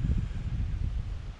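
Wind gusting outdoors, a steady low rumble of buffeting with soft rustle, constant and fairly loud against the microphone with no other sounds.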